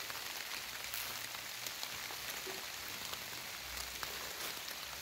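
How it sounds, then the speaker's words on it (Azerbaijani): Light, fine rain falls outdoors as a steady, even hiss of drops, with soft scattered taps and a low background hum underneath. "Yağış deyəsən, şiddətini artırır."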